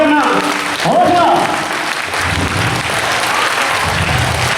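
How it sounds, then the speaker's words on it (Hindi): A crowd at a celebration event in Kursela claps together in a loud, dense wash of applause that carries on throughout, with voices and an announcer heard over the clapping at the start. "एक बार जोरदार ताली के साथ दिखाएंगे अपना हौसला"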